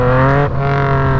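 Engine of a 2016 Yamaha FZ-09 motorcycle pulling hard under throttle, a loud raspy tone that holds steady then briefly dips and picks up again, close and very brief.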